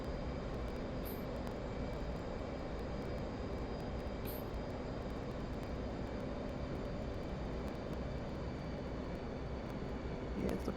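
Steady, droning jet engine of an F/A-18C Hornet in the flight simulator DCS, a constant broadband roar with faint tonal whine, unchanging throughout and heard alone.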